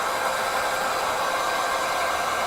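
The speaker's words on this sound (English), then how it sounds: "going to use my dryer quickly" Hair dryer blowing on a loose watercolour winter landscape painted with salt, a steady close whooshing roar held at constant loudness throughout, with no voices.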